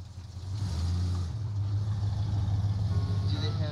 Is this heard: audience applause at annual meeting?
no